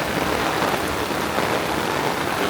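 Steady rain falls outdoors over a vegetable garden of greens, a dense even hiss of drops on leaves and soil, moderately distant and continuous throughout without any voices.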